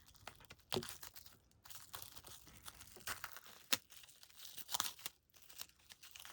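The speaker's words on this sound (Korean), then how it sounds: "일단 뜯어볼게요" Plastic wrapping and packaging on an NCT 127 album digipack are torn open and crinkled up close, with irregular rips and crackling bursts throughout and no talking.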